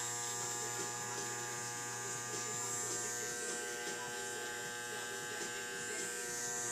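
Electric hair clippers buzz steadily close up while shaving a neck area bald during a back taper haircut, a continuous hum with no pauses.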